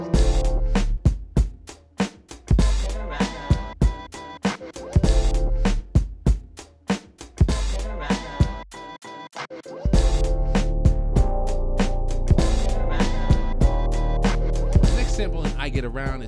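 A remade hip-hop beat loop plays with punchy drum hits and sampled chords, overlaid with crackly vinyl noise, in a rhythmic pattern that repeats.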